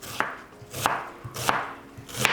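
A fresh onion is chopped with a knife: four crisp, evenly spaced chops, close and fairly quiet, with nothing else in between.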